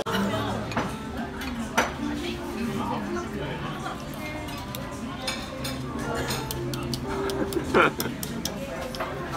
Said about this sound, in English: I find that to be like the most satisfying sound, like the sound of a shell.